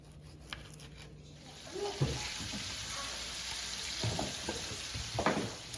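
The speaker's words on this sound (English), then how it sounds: "we done went ahead and added the sausage to the 1/4 stick of unsalted butter in the skillet" Smoked beef sausage slices sizzling in a quarter stick of melted unsalted butter in a skillet, with a soft, steady crackle and a few louder stirring knocks and scrapes.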